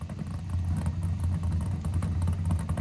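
A 1965 Ford GT350 V8 idling in a Roblox driving game, a steady deep lumpy rumble with a loping rhythm, close and continuous.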